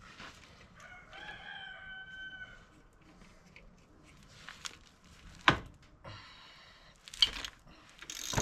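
A backyard rooster crows nearby in a drawn-out call, followed by scattered clanks and thuds of car repair work on a Volvo XC70.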